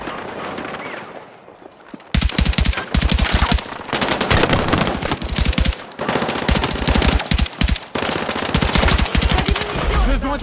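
Heavy machine gun fire in the war shooter Battlefield 6 comes in rapid, loud bursts separated by short pauses, with a quieter stretch and a low voice before the first burst.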